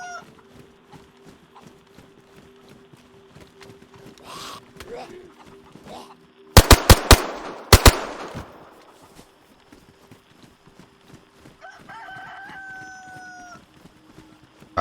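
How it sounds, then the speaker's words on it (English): Gunfire in the video game DayZ: a quick burst of sharp, loud shots followed moments later by another short burst, standing out over quieter background noise and faint talking. "That's a loud gun."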